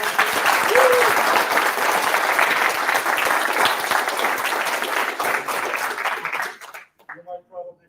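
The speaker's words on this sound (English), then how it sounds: "have a round of applause for Repo" A Flutter developer conference audience gives a round of applause for a speaker, loud sustained clapping that fills the hall and cuts off abruptly near the end, followed by brief speech.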